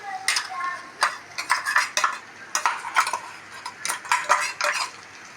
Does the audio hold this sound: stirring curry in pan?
yes